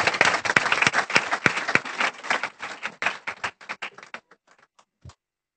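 A church congregation claps in warm applause that starts dense and loud, then thins to scattered claps and fades out near the end.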